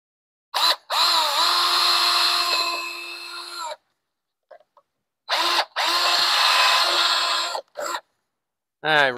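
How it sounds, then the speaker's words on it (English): Power drill reaming out a metal nut, two long loud whirring runs of several seconds each, broken by short bursts and pauses, close up with no talk over it. "I reamed it out just a little bit."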